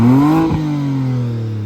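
BMW G82 M4 exhaust with valves closed revving up then settling into a steady idle, a single loud close blip with a rising note that drops back to a sustained low drone, no talking.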